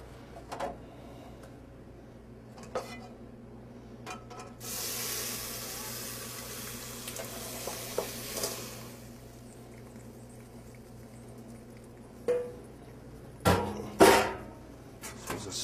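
Braising liquid from boneless short ribs is strained into a sauce pot, giving a soft, steady pouring hiss for a few seconds, then a handful of sharp clinks from the pot and utensils.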